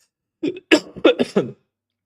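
A short burst of several harsh coughs and throat-clearing sounds from a streamer, close to the microphone, coming in quick succession over about one second.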